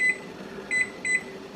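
A kitchen cooking timer is set while seitan cooks, giving three short electronic beeps spaced about a third of a second apart over a low background hum.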